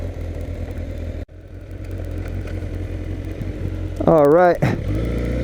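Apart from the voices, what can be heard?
2006 Suzuki GSX-R 1000 K6 motorcycle engine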